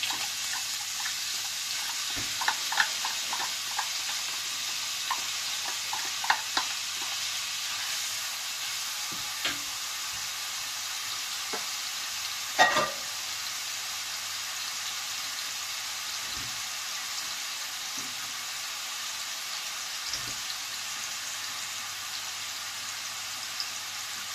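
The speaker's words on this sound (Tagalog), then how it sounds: "Lagyan na po natin itong ating bawang at sibuyas." Garlic and onion sauté in a hot pan, a steady broad sizzle with scattered clicks and scrapes of stirring and a few sharper knocks, close and continuous with no talk.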